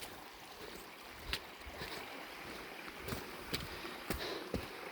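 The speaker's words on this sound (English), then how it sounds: "The creek is back." A creek running beside the Mt Nangar walking track after heavy overnight rain, a steady broad rush of water with occasional sharper splashes and clicks close by, no voices.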